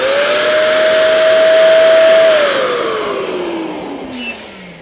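An electric air pump inflates an inflatable stool, a loud, close motor whine that holds a steady pitch and then slowly drops and fades over a few seconds.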